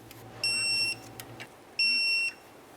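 A torque wrench on the brake caliper slider bolts of a 2006-10 Ford Explorer gives two short, clear electronic beeps about a second apart as it reaches its setting.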